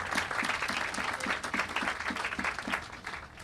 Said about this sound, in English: Round of applause for them and their leadership.